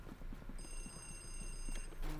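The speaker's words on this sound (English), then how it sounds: "Now we can answer the second phone" A telephone rings in Luigi's Mansion: a steady electronic tone sustains through most of the clip over soft, rhythmic background game music, with a brief louder burst at the very end.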